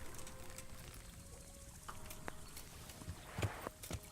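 Horse hooves clop over open ground during horse archery in Kingdom Come: Deliverance, a steady muffled beat of moderate loudness with a few sharper knocks near the end.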